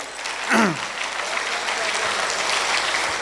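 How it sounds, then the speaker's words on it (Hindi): Audience applause at an international Urdu poetry mushaira in Muscat, Oman, a steady, dense clapping from a large crowd filling the hall, with a brief spoken voice rising at the start before the applause carries on alone. "एक बार जोरदार इनके लिए तालियां बजा दीजिए आप"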